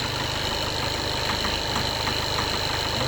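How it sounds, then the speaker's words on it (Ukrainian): Cold Skoda Octavia TDI diesel with 188,000 km idling in 30-degree frost, a steady close engine drone with a faint repeating knock running through it the whole time. "йде детонація в моторі"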